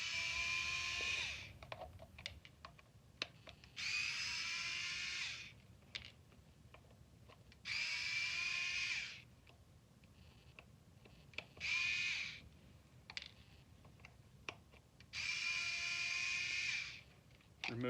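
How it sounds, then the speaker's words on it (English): A Phillips screwdriver backs screws out of a remote control's case in five separate whirring bursts of a few seconds each, close and fairly loud, with quiet gaps between them. "take a Phillips screwdriver. There's 4 screws in the back."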